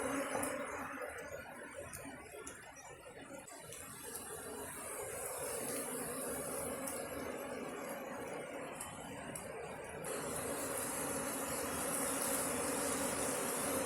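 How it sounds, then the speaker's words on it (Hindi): Honey bees swarm during a transfer of a wild colony to a home hive in a village, a thick continuous buzzing drone, close and steady for the whole stretch with no talking. "अब मधुमक्खियों को निकाल रहे हैं अंकल के हाथ में देखो कितनी सारी मधुमक्खियाँ हैं।"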